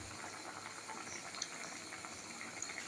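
A pot of khichuri made with Gobindobhog rice simmers, a faint, steady bubbling hiss with small pops, heard alone.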